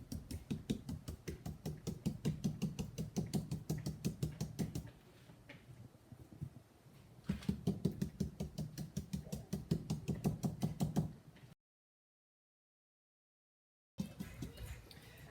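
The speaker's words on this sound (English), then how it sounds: "Now I can take my brush and dip it into my texture like that and just tap through the stencil" A brush dabbing wall-finish texture through a stencil, rapid regular tapping at close range in two long bursts, separated by a short pause, then a stretch of silence and a brief resumption of tapping at the end.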